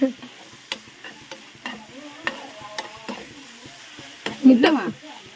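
Paneer mixture stirred in a pan, a series of soft scraping strokes spaced about half a second apart with light sizzling underneath and a louder clattering scrape near the end.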